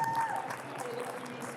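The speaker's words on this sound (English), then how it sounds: "Round of applause," Brief convention audience applause at a nostalgia fan event, a crowd clapping and cheering under a voice speaking over it.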